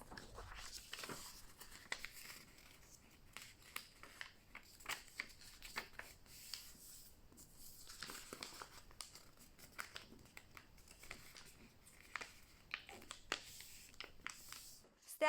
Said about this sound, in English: Fold the paper twice.